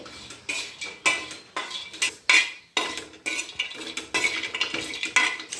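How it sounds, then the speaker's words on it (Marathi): Dry coconut is roasted in a pan and stirred repeatedly, giving rhythmic metallic scraping and shuffling strokes, close and fairly loud, about one stroke every half second. "खोबरंसुद्धा मी काय करते असं छान असं भाजून घेते"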